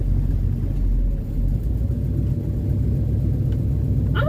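A 1967 Dodge Charger with a 383 big block idles steadily as it turns through a parking lot, a deep, continuous low rumble close by with a brief higher squeak near the end.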